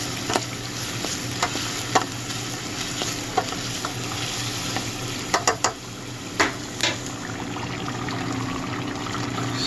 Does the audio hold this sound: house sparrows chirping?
no